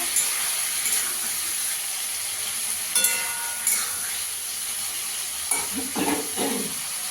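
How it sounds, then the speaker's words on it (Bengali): Ground tomato paste fries in a pan for a Bengali fish curry with radish and tengra fish, giving a steady bright sizzle with a few scraping stirs. "টমেটোটা দিয়ে একটু ভেজে নেব।"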